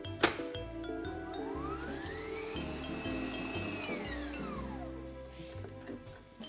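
An electric mixer whirs through corn muffin batter with milk just added, a steady motor hum that rises and falls in pitch as it works, alone without talk.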